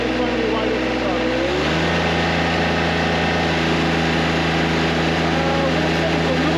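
A lawn mower engine runs at wide open throttle, a loud steady drone close by that rises in pitch and settles into a sustained high rev, with a voice talking briefly over it.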